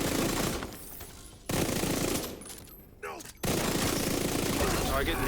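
Bursts of rapid video game gunfire, loud and close, broken by a couple of short pauses before the shooting starts again, with a voice speaking during one of the gaps.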